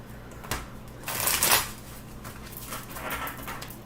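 Tarot cards being shuffled in a few crisp riffling bursts, one louder flurry in the middle, close up and with no talking.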